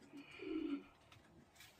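Racing pigeons coo softly in an aviary while resting, a faint low coo rising and fading in the middle with quieter murmurs around it.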